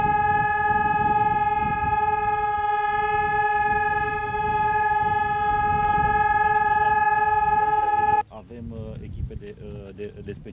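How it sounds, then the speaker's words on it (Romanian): During a dam evacuation exercise at Măneciu, a loud, steady alarm siren sounds as one unbroken tone for about eight seconds, then cuts off abruptly as a voice starts talking. "Mai întâi au dat alarma."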